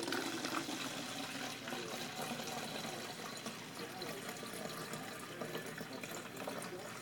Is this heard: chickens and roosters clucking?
no